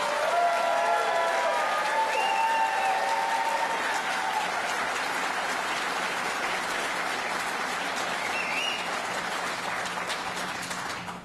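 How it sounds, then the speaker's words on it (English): Sustained audience applause at a campaign event in Buffalo for Sam Hoyt, a broad, even roar of many hands clapping that holds steady and tapers slightly at the end, with a few voices faintly underneath. "Let's give him a round of applause."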